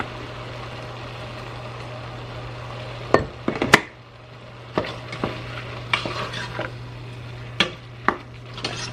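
Ground pork with lard stirred with a ketchup and molasses sauce in a hot pan, with a soft continuous sizzle broken by several sharp spoon scrapes and knocks against the pan.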